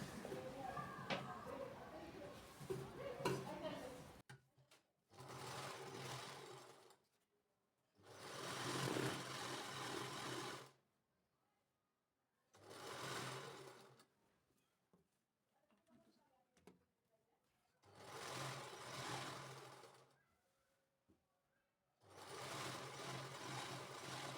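Domestic sewing machine stitching folded kurti fabric pieces together, running in several separate bursts of a few seconds each with pauses between, close and fairly loud, with speech before the first burst.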